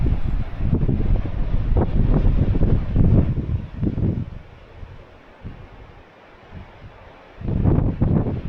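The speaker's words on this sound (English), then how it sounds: "this wind's not helping." Strong wind buffets a microphone on a coastal cliff path along the Northern Ireland coast, coming in loud gusts with a quieter lull midway before surging again.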